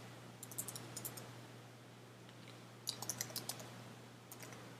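Keyboard typing on a device while searching, heard as two short bursts of light, quiet clicks over a steady low hum, with a pause between them.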